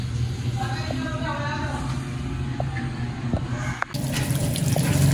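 Water draining from a black hose at a house, a steady splashing trickle close by, with a few faint clicks and a short break near the end before the flow resumes.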